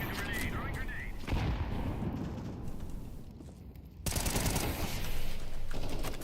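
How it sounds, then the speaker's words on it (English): Counter-Strike 2 match audio with a grenade thrown amid dense gunfire bursts and explosive thumps, loud and continuous, with a louder blast-like surge partway through and a voice talking over it. "Throwing grenade."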